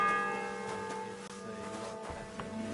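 A church bell tolls the ninth hour in the medieval game Kingdom Come Deliverance II, its steady resonant ringing and long humming overtones filling a short moderately quiet passage.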